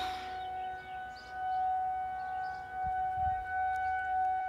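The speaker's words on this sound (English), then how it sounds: "But where is the siren though? It's like we're right there." A siren wails steadily close by, its long sustained tone holding level with slight rises, alone with no talking.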